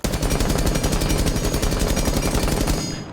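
A rapid, evenly spaced burst of automatic gunfire from a weapon fitted with a muzzle brake in Rainbow Six Siege, loud and close, running about three seconds before cutting off abruptly.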